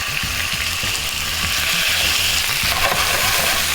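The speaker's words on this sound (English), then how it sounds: "I'm gonna take our steak, go right down in the hot oil," Steak sears in hot olive and sesame oil for a beef stir fry, producing a loud, dense, continuous sizzle close up with a rapid crackling texture throughout.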